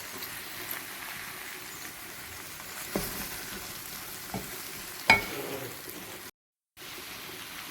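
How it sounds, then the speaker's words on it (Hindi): Okra sizzling softly in a pan over a low flame while spices fry with it, a steady quiet crackle broken by a few sharp clinks, with a short silent gap near the end. "भिंडियों को भून रहे हैं"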